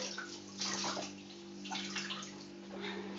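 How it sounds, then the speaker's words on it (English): A bar of Battenberg cake soap drops back into water in a sink, giving a few close sloshing splashes and gurgles in short bursts over a steady low hum, with no talking. "I've dropped it back in the sink."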